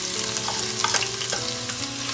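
Chopped onion frying in hot oil in a pan, a dense close sizzle with stirring scrapes, no speech.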